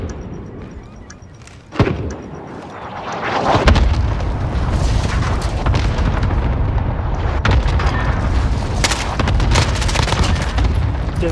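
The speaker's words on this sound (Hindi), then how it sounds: "हमारे यहाँ से कासिम आता है आरपीजी लेके देख के" RPG explosions and gunfire in a Call of Duty style search-and-destroy match on a Hackney Yard map: a sharp blast, then dense sustained booming and rattling fire that fills the scene loudly.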